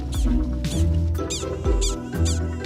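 Prairie dogs give repeated high-pitched chirping calls, about five sharp bursts in a steady rhythm over a low rumbling background, fairly loud and close.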